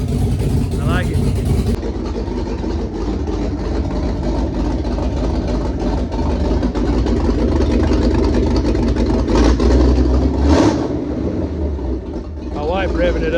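A car engine fitted with a GT40 intake runs steadily and is revved up, a loud, close, continuous rumble through the whole stretch, with a voice talking faintly underneath.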